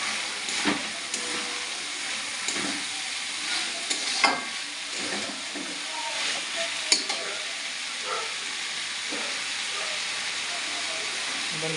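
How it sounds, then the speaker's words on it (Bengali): Chopped cabbage hits a hot pan for a vegetarian cabbage dish and fries with a soft, steady sizzle, broken by scattered scraping and clacking as it is stirred. "এবার কুচানো বাঁধাকপিটা দিয়ে দেবো।"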